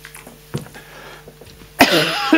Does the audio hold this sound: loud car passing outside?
no